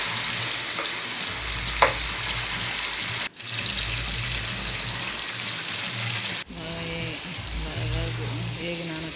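Tomatoes and fish sizzle steadily in a pan, a continuous loud frying hiss broken by two brief pauses, with a few utensil scrapes and faint speech in the background.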